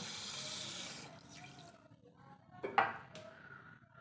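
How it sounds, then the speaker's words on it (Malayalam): A glass of water splashes and trickles into a pot for milk payasam, faint and close, with short gurgling bursts and a couple of light clinks. "ഒരു ഗ്ലാസ് വെള്ളം കൂടെ നമുക്ക് ഒഴിച്ചു കൊടുക്കാം"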